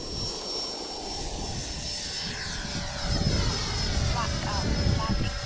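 A Freewing Avanti S radio-controlled jet plane flies overhead with a steady, broad whoosh that swells slightly and holds loud throughout, with faint talk underneath.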